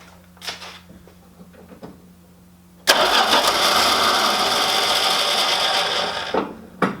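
A few faint clicks, then the old engine of a first car under rebuild, with no fuel added, cranks with a loud, steady churning for several seconds before stopping abruptly. No voices.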